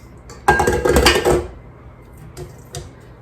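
A utensil scraping and clinking around the bottom of a stand mixer bowl holding white and brown sugar for toffee chocolate chip cookies, one busy burst of rattling contact followed by a few lighter taps.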